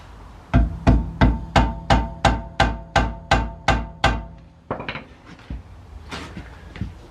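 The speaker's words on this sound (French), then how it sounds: "je vais taper dessus et je vais l'enlever avec un tournevis et une petite masse" On a Citroën Xsara rear brake, a small sledgehammer strikes a screwdriver against a brake pad pin: about ten sharp, evenly spaced metallic taps ring out close by, then a few lighter, irregular knocks.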